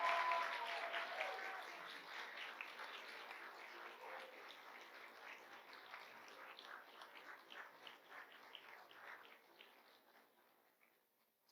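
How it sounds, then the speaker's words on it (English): A faint, distant round of applause for the class of 2024 at a Rocky Vista University PA induction ceremony in Colorado, strongest at the start and gradually thinning out over about eleven seconds. "Can we get a round of applause for our class of 2024?"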